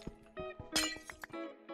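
Minecraft glass blocks shatter in several quick clinking breaks, sharp and close, with brief gaps of quieter game ambience between them.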